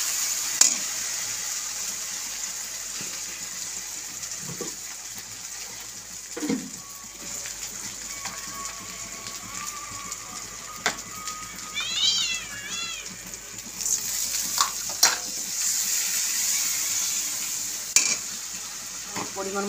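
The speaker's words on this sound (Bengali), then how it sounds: "একটু আঁচটা কমিয়ে ভাজছি।" Broken fish heads fry in a pan with spices over a low flame, giving a soft, continuous sizzle with occasional stirring clatter. A cat meows briefly partway through.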